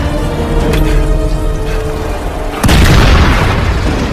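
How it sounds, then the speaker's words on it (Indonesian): A sustained rumble gives way to a sudden, louder bomb explosion in an action film that fills the space and lingers as a deep roar. "Setelah bom tersebut meledak"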